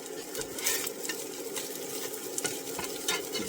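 Beef fried rice stir-frying in butter and oil on an electric cooker, a soft continuous sizzle broken by repeated scraping and clinking strokes of a utensil against the pan.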